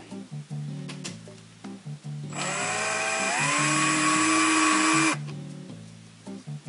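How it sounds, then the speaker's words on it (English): A drill countersinks holes in aluminum retractable landing gear, a high steady whine that starts abruptly, rises slightly in pitch as it cuts, then stops after about three seconds, with quieter handling clicks around it. "This being aluminum makes it a lot easier to countersink."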